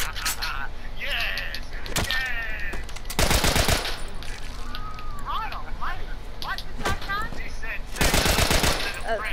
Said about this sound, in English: That's the assault rifle.